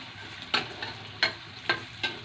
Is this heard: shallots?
yes